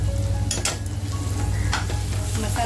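Mutton kheema with homemade masala fries and sizzles steadily in a pan, a constant close crackle broken by a few scraping stirs of a spoon.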